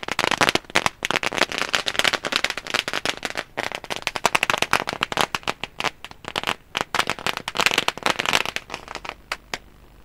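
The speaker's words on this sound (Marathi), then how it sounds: "फटाक्यांच्या आतिषबाजीने हा शुभ सन्मान." Firecrackers and fireworks going off at an award ceremony, a rapid, irregular string of sharp cracks and pops that crackle on and off, fairly close, with no voices over them.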